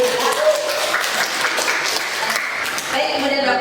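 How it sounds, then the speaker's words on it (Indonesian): A room at a West Java seminar fills with steady, dense applause for two colleagues. The clapping carries on evenly for several seconds, with voices faintly underneath. "terima kasih tepuk tangan untuk kedua rekan"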